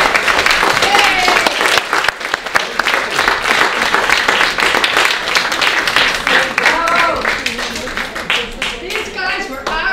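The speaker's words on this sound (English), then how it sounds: "give them all a good round of applause" An audience gives members of a band a warm round of applause: dense, steady clapping fills the room throughout, with someone speaking over it.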